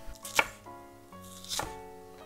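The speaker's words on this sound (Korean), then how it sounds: "대파는요 이렇게 한 4cm 정도 길이로 잘라 주세요" A knife cuts green onion into 4 cm lengths on a board, giving two sharp, close chops about a second apart with no voices.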